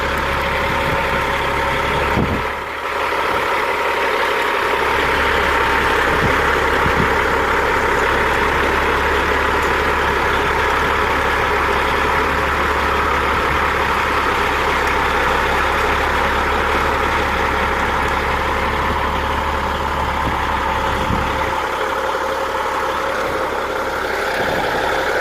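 A truck engine rumbles steadily for the whole stretch while it maneuvers a trailer up to a pit, a loud continuous drone with slight shifts in load.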